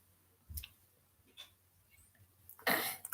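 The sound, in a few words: throat clearing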